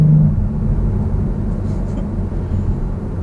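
A 2018 Kia Stinger GT, a Sunset Yellow limited edition, gives a loud, steady low engine and exhaust drone while accelerating, heard close up from inside the car for about three seconds.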